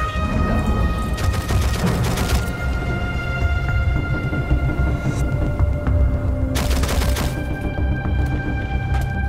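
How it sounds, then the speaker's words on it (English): A suppressed shotgun fires in a video game, landing as a couple of loud, broad booming blasts over dense, rumbling game noise. "It's a nice sounding gun."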